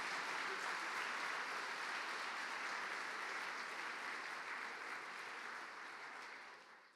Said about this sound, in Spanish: Denle un aplauso al Señor por lo que el Señor ha hecho en su vida.